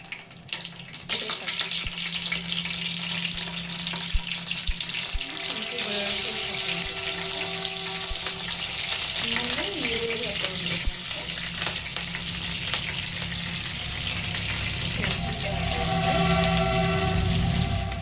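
Curry leaves crackling and sizzling in hot oil for bisibele, a loud dense spitting hiss that flares up as the leaves hit the pan and then carries on steadily, close by.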